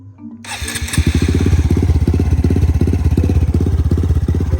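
A motorcycle engine starts after a brief click and settles into a loud, close, steady idle with a fast, even thumping beat.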